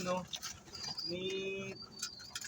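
A racing pigeon coos near the listener in a few soft, tonal, throaty calls, with people talking in the background.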